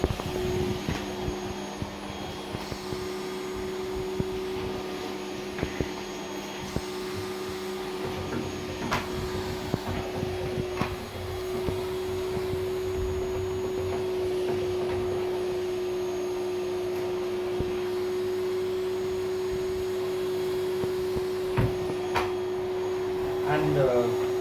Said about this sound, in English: See where the dots are and then hoover it.